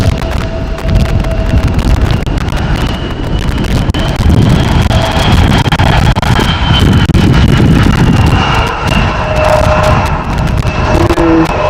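An airliner rolls out on runway 18R at Amsterdam Schiphol in rain and wind, giving a loud, steady engine roar with a whining tone and gusty wind buffeting throughout, with no reverse thrust.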